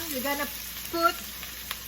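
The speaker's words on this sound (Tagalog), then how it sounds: "After po natin i-saute ang garlic and onion" Garlic and onion sauté in a pan for chicken and mixed vegetable lumpia. A soft, steady sizzle runs under a brief spoken phrase.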